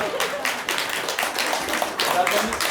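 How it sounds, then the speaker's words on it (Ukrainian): A crowd applauds to welcome an ambassador at a charity event in Athens, a steady run of clapping from several people, fairly close, with a voice talking over it. "А тепер аплодисментами запрошуємо пана посла."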